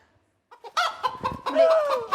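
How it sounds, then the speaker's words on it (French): A rooster gives a loud, close call of rising and falling tones lasting about a second and a half, preceded by a couple of short clucks. "C'est coq, c'est pas poulet."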